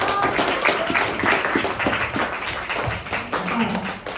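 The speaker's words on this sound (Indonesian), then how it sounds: "Oke, good job, tepuk tangan dong." Schoolchildren in a classroom clap together at the end of a lesson, a dense, steady patter of many small hands with children's voices chattering through it.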